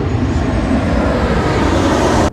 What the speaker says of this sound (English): Don't mind the planes that are going around